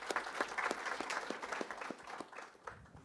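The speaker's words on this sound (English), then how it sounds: "A round of applause for Jay," Audience applauding for a speaker at a tech conference talk, a steady patter of many hands clapping at moderate distance, fading slightly toward the end.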